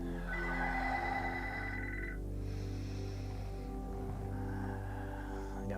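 A telephone rings in a room, a steady electronic trill sounding in two bursts with a short gap between them, over a constant low hum and with no talk.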